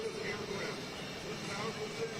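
A KC-10 Extender tanker on its final flight gives off a steady, even jet roar that fills the background at moderate volume without rising or fading.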